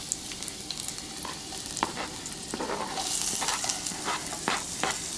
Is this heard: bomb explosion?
no